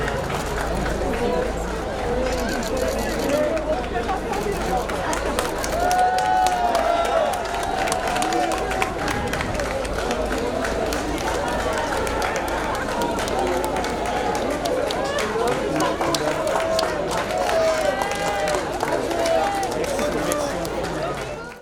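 A crowd greets a politician in Arcachon, with continuous murmur, scattered cheers and calls filling the air steadily at a loud, close level, while a voice speaks over the din.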